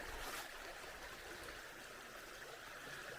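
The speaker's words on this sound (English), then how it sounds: "we'll follow right along the creek pretty much all the way up to the actual Nancytown waterfall" A creek runs alongside a forest hiking trail near Nancy Town Falls in Mount Airy, Georgia, giving a steady, even rush of flowing water with no breaks.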